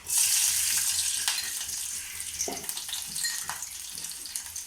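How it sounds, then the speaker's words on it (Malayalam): Whole garlic cloves dropped into hot oil for a passion fruit pickle, a loud bright hiss that surges at first then settles into a steady sizzle with a few faint clinks, close by. "വെളുത്തുള്ളി നമ്മൾ മുഴുവൻ ഇട്ട് കൊടുത്തു"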